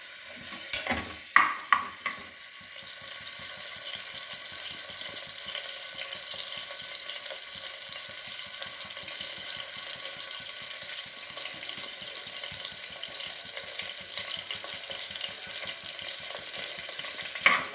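Chopped onions frying in hot oil with a little ghee, giving a steady, even sizzle that runs throughout, with a few clanks of a spoon stirring the pan at the start and another near the end.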